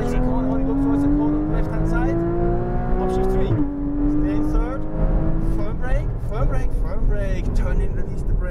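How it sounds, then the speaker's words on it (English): A Porsche Cayman GTS engine revs up through the gears on a racetrack, a close rising engine whine with a shift partway through, under continuous instructor talk. "Back onto that throttle. Bring the car to the right-hand side. Full throttle now."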